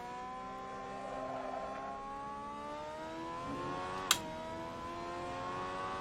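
Rush SR race car engine in Assetto Corsa screaming at high speed down a straight, a steady loud drone with rising pitch, a brief shift, and a sharp click near the end, no talking.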